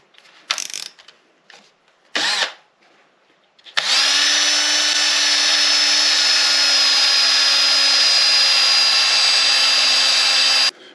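Drill spinning 320 grit sticky sandpaper wrapped on a Delrin rod inside a silver ring, two brief bursts followed by a loud steady high whine with sanding friction lasting several seconds.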